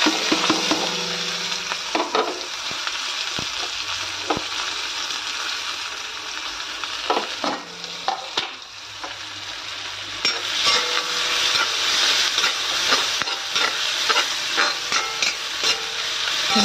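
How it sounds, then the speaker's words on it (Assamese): Onion, green chili and garlic fry in hot oil in a pan, giving a steady close sizzle with spatula scrapes and clinks as they are stirred, no voices. "ধুনীয়াকৈ ভাজিব লাগিব অলপ টাইমতে।"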